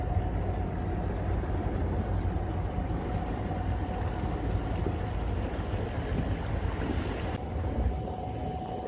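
A boat cruises quietly under a Lowrance Ghost electric trolling motor, with a steady faint whine under continuous wind and water wash.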